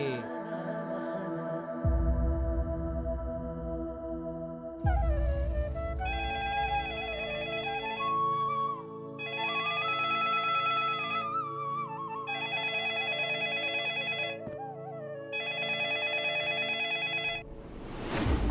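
A telephone rings repeatedly, several bursts of an electronic melodic ringtone separated by short pauses, fairly loud and alone, with a rising noise at the very end.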